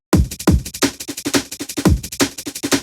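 Chopped amen drum break layered with a punchy kick drum in a liquid drum and bass track, busy syncopated snares and hats with deep kick hits recurring every half second or so, loud and alone.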